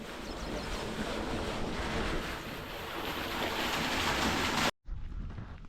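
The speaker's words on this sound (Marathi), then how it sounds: "मोटर सुईची जोडली गेलेली आहे बदा बदा पाणी पडत आहे" Loud, continuous rush of well water gushing from a motor pump pipe, a broad roaring hiss, steady throughout before a sudden brief cut.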